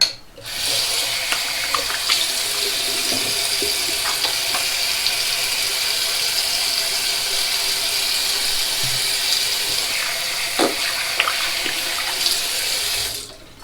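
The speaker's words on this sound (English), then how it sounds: "when I hold it under the running water" Tap water runs steadily over a Gillette Heritage double edge razor during a wet shave with Gillette Pure shaving cream, a close, continuous splashing stream with faint clicks, heard alone for the whole stretch.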